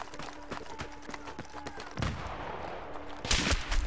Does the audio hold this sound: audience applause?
no